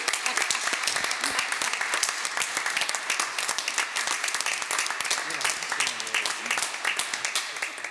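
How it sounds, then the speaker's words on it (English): A room full of people applauds an ambulance EMT crew at a public meeting, producing dense, continuous clapping that carries on for several seconds with a few voices mixed in. "Round of applause for our EMT."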